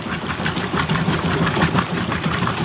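An older Whirlpool Heavy Duty washing machine runs nearby on its spin and drain cycle, a steady churning mechanical rumble with a rhythmic whir.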